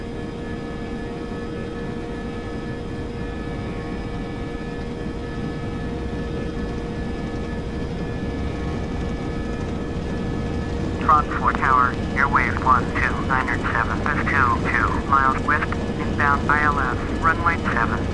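Airbus A321-231 jet on the runway in the Flight Simulator 2004 game, using auto throttle for takeoff: a steady engine hum and rumble throughout, with a voice talking over the later part.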